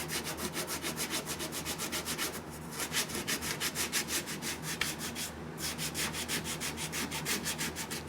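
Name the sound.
hand sanding body filler on car dent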